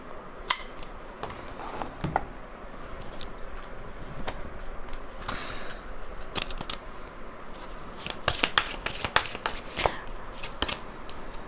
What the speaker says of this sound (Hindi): तो मैंने 3 कार्ड्स इस डेक से निकाले हैं।